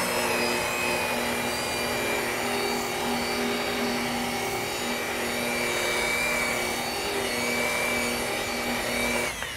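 A machine polisher runs on a car's hard clear coat paint as it spreads polish, a steady close motor hum and whir with a faint swishing pad texture, holding an even level throughout with no speech.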